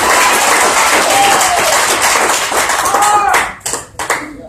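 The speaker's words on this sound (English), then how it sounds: "Give y'allself a round of applause." Comedy club audience at the Looney Saloon applauding and cheering loudly and steadily, with whoops and voices mixed in, then tapering into scattered claps near the end.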